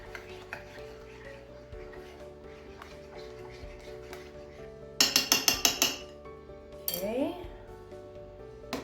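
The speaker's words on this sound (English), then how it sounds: "Give that a stir." A spoon scrapes and clinks against a dish while a chicken cordon bleu casserole mixture is stirred, giving a quick cluster of bright metallic clinks and then a short scraping sweep over a low background hum.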